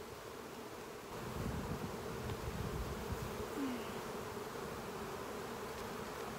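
A steady, dense hum of many honeybees buzzing together in a hive preparing to swarm, constant and moderately loud, with no voices.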